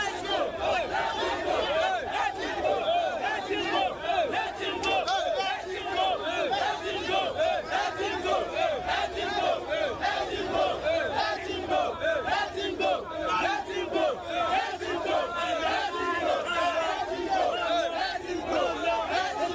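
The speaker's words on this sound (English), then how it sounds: "You are hearing the jubilation" A dense crowd of demonstrators in Ibadan cheers and shouts in jubilation, loud and continuous with overlapping voices throughout.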